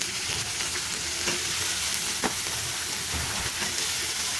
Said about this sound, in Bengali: তার মধ্যে হচ্ছে আমি সিম আর আলুটা দিয়ে দিচ্ছি।